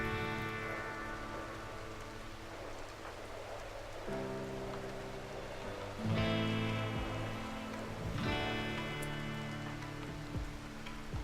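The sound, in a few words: rain in the video game RimWorld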